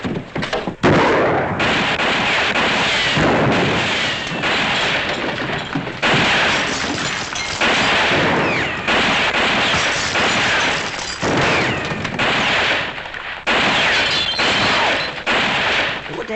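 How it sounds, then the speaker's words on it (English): Sustained gunfire from a Western-era shootout, with rapid overlapping shots and booming reports rolling continuously and loudly, close and echoing, with barely a pause. "somebody's shooting at somebody"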